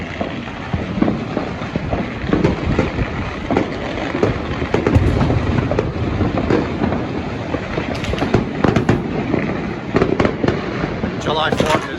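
Loud, mostly illegal New Year's fireworks boom and crackle continuously from many directions, with dense overlapping bursts and rolling echoes. Voices talk faintly underneath.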